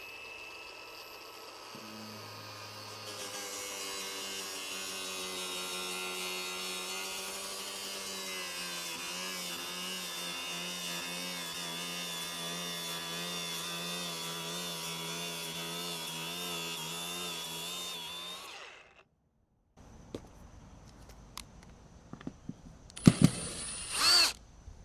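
A decorative metal grill for a door panel being sawn with a power saw, a steady loud whining cut running for about eighteen seconds before stopping, followed by quiet handling clatter.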